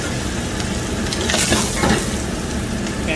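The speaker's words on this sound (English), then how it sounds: "So I got some chopped tomatoes here, so we're gonna add in there." Chopped tomatoes hit a very hot, smoking pan for goat stomach curry and sizzle in a loud, steady hiss, with stirring scrapes swelling briefly, close up.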